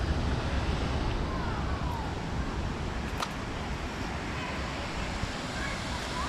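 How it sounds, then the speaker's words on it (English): A man-made waterfall on a river in downtown Greenville gives a continuous, broad rushing roar of falling water, steady and fairly close, with some wind buffeting mixed in. "That's really an impressive man-made waterfall."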